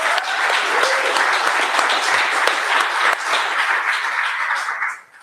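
Audience applause at a live political forum, a full, steady wash of clapping held for several seconds before dropping off abruptly at the end.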